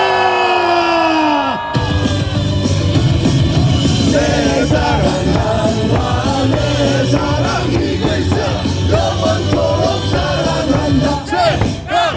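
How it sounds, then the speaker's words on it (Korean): Stadium crowd at a baseball game roaring and cheering together, a loud sustained wall of shouts and whoops that swells after a brief lull and holds steady throughout. "다시 한번 4연승을 향한 함성 5초간 발사"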